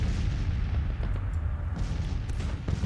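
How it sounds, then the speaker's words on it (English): Artillery pieces firing at will in the Grand Tactician strategy game, a dense barrage of low rumbling booms and cracks rolling on continuously, with no talk. "So every artillery piece, fire at will."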